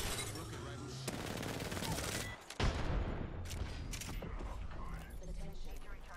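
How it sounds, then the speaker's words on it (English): Rapid bursts of automatic gunfire ring out in a round of the video game Apex Legends, dense and loud from start to finish with a short lull midway, mixed with clanking mechanical game effects. "Getting shot at."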